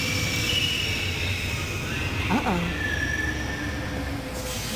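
Subway train rumbling through a station in the adventure game The Longest Journey, with a brief wheel squeal or screech rising in the middle over a steady mechanical drone, and a person speaking over it.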